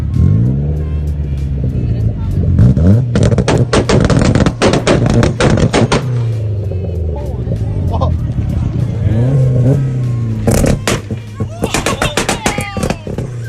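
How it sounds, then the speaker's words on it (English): Supercharged Mazda Miata performing repeated two-step launch-control revs, with loud rapid popping and crackling bursts over a held engine note, in clusters with brief pauses between them, close and harsh throughout. "So as you see, it's a bunch of two-stepping."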